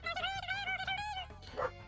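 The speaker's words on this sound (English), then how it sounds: "The dog's barking." A dog barks in a run of repeated yips and bow-wows at moderate distance, with a sharper, higher bark near the end, heard in Finland.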